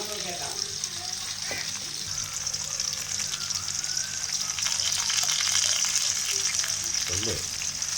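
Onions and garlic sauté in hot oil with a steady, bright sizzle that swells slightly toward the end, broken by a few scrapes and clinks.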